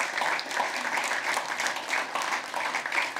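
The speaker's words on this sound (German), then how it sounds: "Ja, bitte, Szenenapplaus" Audience applause fills an exhibition opening: steady, dense clapping from a crowd, fairly close and sustained throughout, with no talking over it.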